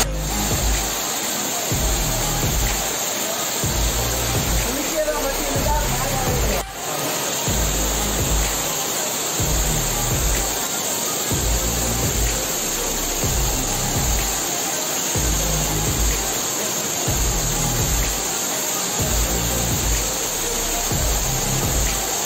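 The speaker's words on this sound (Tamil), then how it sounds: "ஸோ இதுதான் வாட்டர் ஃபால்ஸ்" A waterfall in the Western Ghats forest of Kanyakumari district pours with a loud, steady rushing roar that holds unbroken throughout, close to the listener.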